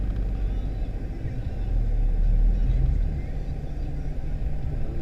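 Small car driving along a road in the Philippines, a steady low engine and road rumble with heavier low-end noise midway, continuous throughout with no talking.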